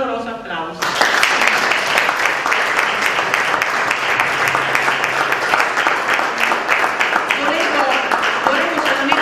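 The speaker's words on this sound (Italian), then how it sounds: "salutiamo con un caloroso applauso." At a farewell ceremony in the province of Reggio Calabria, a crowd gives retiring school heads warm, sustained applause. The dense clapping starts after a brief moment of speech and continues loudly to the end.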